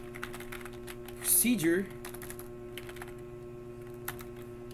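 Keys clack on a computer keyboard in a quick, light, scattered patter up close over a steady electrical hum, with a brief spoken word partway through.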